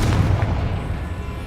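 A Confringo fire spell bursts in Hogwarts Legacy as a deep, booming blast with a heavy low-end thump that fades over about a second, heard alone.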